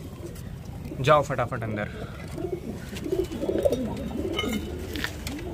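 Pet pigeons coo softly in low, throaty bursts while someone speaks briefly over them, the cooing continuing steadily nearby.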